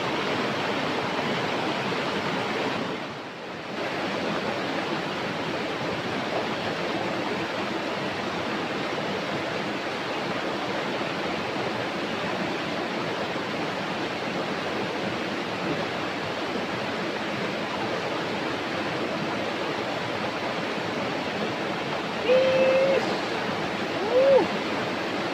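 River water flows steadily and close by, making a continuous broad rush that holds at an even level throughout, with only a brief dip near the start and a couple of faint high chirps near the end.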